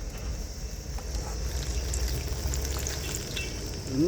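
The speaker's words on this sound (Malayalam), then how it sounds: "പഴംപൊരി ഉണ്ടാക്കുന്നത് വൈകിട്ടത്തേക്കുള്ള" Pazhampori banana fritters frying in hot oil, a steady low sizzle and bubbling that holds evenly throughout, fairly close and with no talking.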